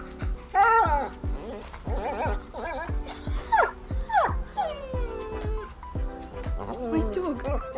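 Dog in the video game A Plague Tale: Innocence, growling and howling in a series of strained, rising and falling cries over a tense game soundtrack, with characters speaking in between.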